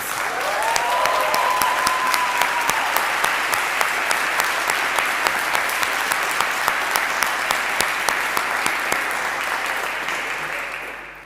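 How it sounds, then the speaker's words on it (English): Sustained, dense applause from a graduation audience for MSc in Business Management graduates at an awards ceremony, steady and full throughout with a faint voice at the start. "Can we give them all a round of applause, please?"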